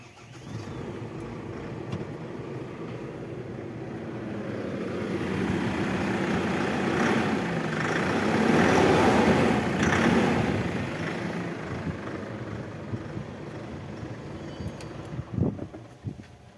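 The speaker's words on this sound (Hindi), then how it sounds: "अभी इंजन को स्टार्ट कर कर इंजन के सॉन्ग सुनाएंगे" A BS6 Phase 2 Ashok Leyland Partner Super 1114HL truck's diesel engine runs steadily nearby, a loud continuous rumble that swells slightly in the middle and stays without voices throughout.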